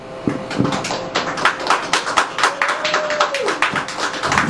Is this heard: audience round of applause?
yes